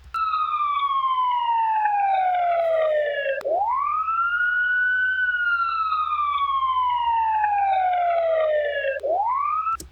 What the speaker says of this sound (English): now we're only hearing the siren.